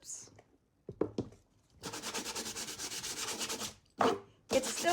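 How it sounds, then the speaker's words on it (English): Sandpaper rubbing over white paint on a mixed media piece, a long steady back-and-forth scratchy rasp followed by two shorter sanding strokes, close and clear after a few faint taps. "I can now just go over with some sandpaper"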